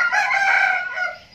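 A rooster crows once, a long strained call that trails off, close and loud, among free-range chickens kept in a coop.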